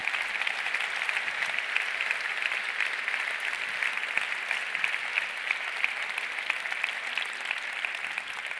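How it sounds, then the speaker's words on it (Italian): Sustained audience applause fills a hall at a literary award ceremony, a steady dense wash of many hands clapping at even loudness throughout with no voices on top. "Un applauso anche alla giuria."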